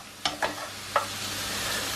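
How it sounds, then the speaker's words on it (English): Beef and pancetta sizzle steadily in a pan with a bright hiss, interrupted by a few quick scraping stirs early on. "There's lots of sizzling going on, which is good news."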